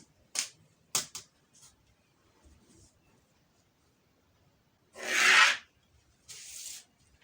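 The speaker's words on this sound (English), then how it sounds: "I'll just mark that in multiple places and square it out." A pencil marks lines on a paper sleeve pattern: a few short, close scratchy strokes early on, then a pause and two longer rasping drags near the end, with no talk.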